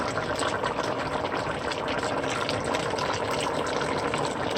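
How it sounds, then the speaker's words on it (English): Running water gushes steadily from a tap while hands are washed in a home kitchen, a continuous close splashing rush that lasts throughout, with no talk. "Let me just wash my hands."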